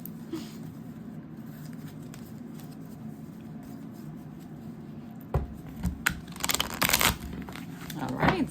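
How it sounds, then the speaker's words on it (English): Tarot cards are shuffled with soft riffling and crinkly slaps, quiet at first and then in louder bursts of shuffling, close and busy. "Always destroying my setup when I shuffle."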